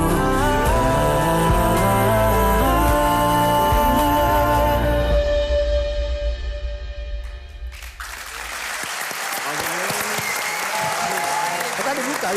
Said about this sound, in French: On applaudit encore. Wow, standing ovation pour Lovech.